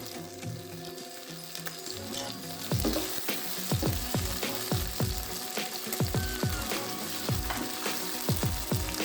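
Chicken pieces fry in a pan with cloves, mustard seeds and chopped onions, giving a steady close sizzle broken by repeated sharp scraping clicks of stirring.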